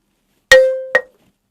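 A single balafon note struck, rings briefly and is cut off by a second dull tap that stops the wooden bar before it finishes ringing, leaving near silence.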